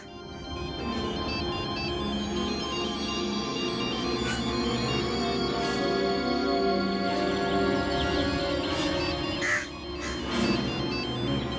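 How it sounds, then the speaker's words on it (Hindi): A telephone ringtone plays steadily in a melodic, repeating pattern, fairly quiet and unbroken, with a few faint clicks over it. "टेलीफोन की रिंग तो बज रही है"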